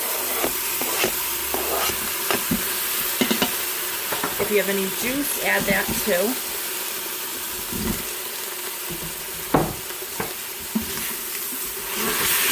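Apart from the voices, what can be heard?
stirring beef sizzling in an Instant Pot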